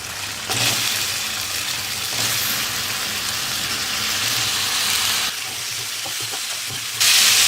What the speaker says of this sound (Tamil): அவரைக்காவை எண்ணெயிலே கொஞ்சம் நேரம் வதக்கலாம்.